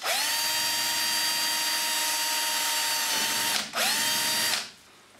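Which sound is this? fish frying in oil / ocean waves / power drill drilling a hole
power drill drilling a hole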